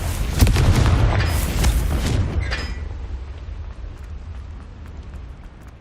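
A Confringo spell explodes in Hogwarts Legacy, a loud booming blast with crackling bursts up front that rolls off into a fading rumble over several seconds.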